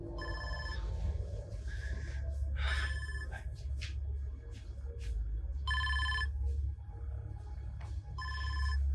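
A telephone rings in repeated bursts of a bright electronic trill, several rings spaced a few seconds apart, over a steady low background hum with some faint voices between rings.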